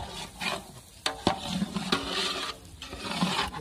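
A spoon stirs lockdown biryani in a cooking pot, giving soft, quiet scrapes and a few sharp clinks against the metal at an irregular pace, with no voices.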